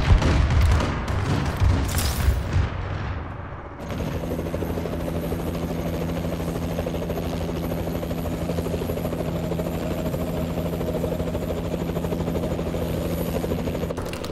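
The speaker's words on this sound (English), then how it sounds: "Friendly warbird in the air." Friendly warbird aircraft in Call of Duty Advanced Warfare on the Atlas Gorge map, a steady, loud rotor-like engine drone that holds evenly after an opening burst of gunfire and blasts.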